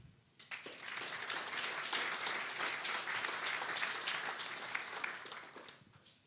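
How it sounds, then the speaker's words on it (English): Audience at an international wide-bandgap power electronics workshop applauding a diploma recipient, a sustained wash of clapping from a sizeable crowd that starts abruptly and fades out after about six seconds. "now we'll give you an applaud"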